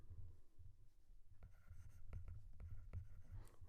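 Someone writes the word metabolism in a new colour, probably with a marker, making a continuous scratchy, scraping stroke sound with short squeaks and pauses between letters. It is close and steady over a low background hum, with no talking.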